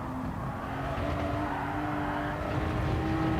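A Porsche race car in Gran Turismo 7 corners hard, its engine droning steadily with tire squeal and scrubbing throughout, loud and continuous with no talk.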